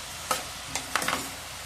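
Onions with a pinch of turmeric fry in a pan for a ridge gourd curry while a spoon stirs them; a handful of soft scraping strokes sit over a steady, quiet sizzle.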